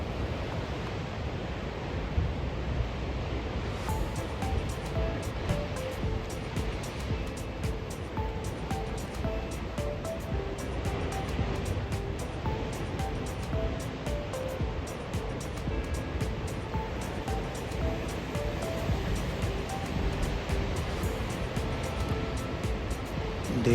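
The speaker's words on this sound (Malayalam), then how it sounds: "തീരത്തേക്ക് അലതല്ലി കയറാൻ വെമ്പൽ കൊള്ളുന്ന തിരകളിവിടെ കാണാം." Ocean waves surging toward the shore at Tunnel Beach near Dunedin, New Zealand, a continuous broad wash of surf at moderate loudness, with faint clicks and a soft tonal background.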